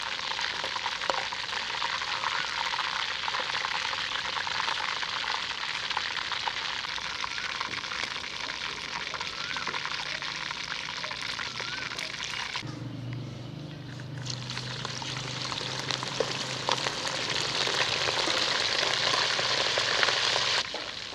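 Meat, including leg pieces, sizzles steadily in a hot pan for jungle pulao, a continuous close frying hiss that dips briefly midway as the pieces are stirred, then returns at full strength.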